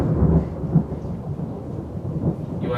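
Thunder from a lightning storm, a low continuous rumble with faint rain behind it, distant and steady, with no voices.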